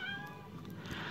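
A recorded cat meow plays from a children's baby-animals sound book, one short, clear mew with harmonic tone lasting about a second, alone without talk.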